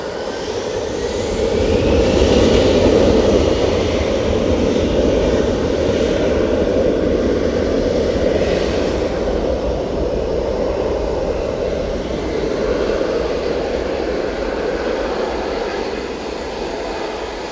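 A British Airways airliner crosses runway 23 right at Manchester Airport, its engines giving a steady, loud roar that swells slightly and then holds, with no talk.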